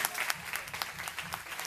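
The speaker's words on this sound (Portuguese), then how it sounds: "Aplauda o Senhor," A church congregation applauds during a Sunday service, a steady patter of many hands clapping close by with a faint voice murmuring underneath.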